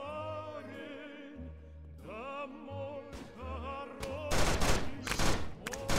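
Sniper rifle fire in the Boris Russian Bear forest shooter game, a dense burst of loud shots and cracks arriving near the end, following a stretch of sustained droning game music with no talk.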